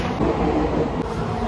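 A Konkan Railway train rolls along with a steady, close interior rumble and faint rhythmic clatter. The sound is short and unbroken, with no talk over it.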